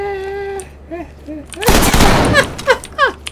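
A burst of close, loud gunfire in Ready or Not cuts in abruptly after raised, whiny voices, followed by more shouting and a few trailing sharp cracks.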